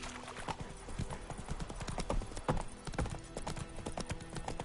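Roach, a horse in The Witcher 3 video game, gallops along in a quick, steady clip-clop of hooves, close and clear, with no talking.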